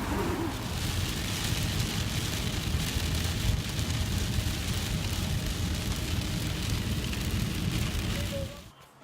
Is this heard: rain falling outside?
yes